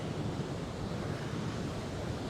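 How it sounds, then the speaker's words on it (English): Ocean surf rolls onto the shore at Fort Tilden beach in Queens, New York, a soft, steady wash of distant waves blending with light wind, with no voices. "So I'll keep the camera now on the ocean."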